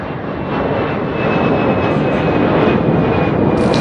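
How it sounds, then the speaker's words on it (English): Steady, loud roar of an airplane in flight, a continuous broadband drone with a thin high whine running through it, unbroken for the full length. "So I guess it's back to the airport and off in another plane"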